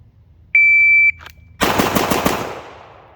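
A shot timer's sharp electronic beep sounds, followed by a rapid string of close, loud shots from a Dan Wesson DWX Compact pistol, echoes trailing off afterward.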